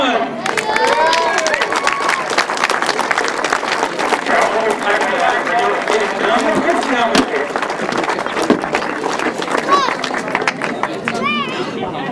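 A grasstrack championship crowd roars and cheers loudly for the winning rider, with a dense, sustained wash of clapping and chatter filling the whole stretch at close range.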